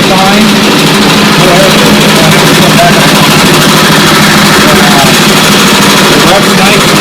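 Small Honda-clone engine fitted with an aftermarket eBay carburetor, idling steadily and loudly up close with a constant droning rumble and no change in pace.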